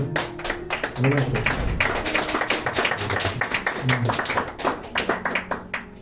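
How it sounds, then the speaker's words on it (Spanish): Church congregation clapping during a Sunday service, a loose rhythmic patter of hands heard up close, with voices mixed in beneath the applause. "Vamos a darle un fuerte aplauso."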